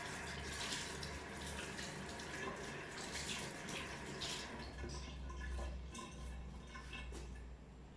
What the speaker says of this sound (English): Just going to quickly rinse my hands again.